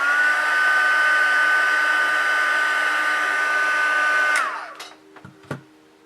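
A handheld heat tool blows steadily and loudly for about four seconds to heat-set blush on the face, then cuts off and winds down, leaving a few faint clicks and handling knocks.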